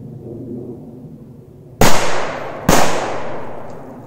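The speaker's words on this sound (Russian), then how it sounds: "Это у нас два взрыва." Two rocket firecrackers explode outdoors in quick succession, each a sharp, loud crack followed by a decaying rumble, with a quiet background before the first blast.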